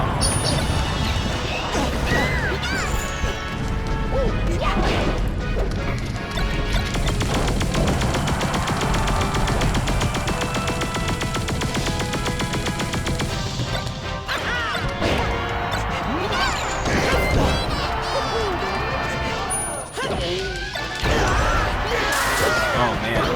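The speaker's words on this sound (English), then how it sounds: "I hate those exploding crates." Crates explode with loud crashes and bangs during a Super Smash Bros. Melee match, mixed with the game's music and busy effects.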